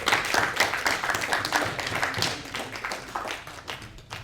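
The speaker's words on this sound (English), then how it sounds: "Another round of applause." Audience applause during an art event, lively close clapping from a small crowd with distinct sharp hand claps and taps, fairly loud and continuous, easing slightly toward the end.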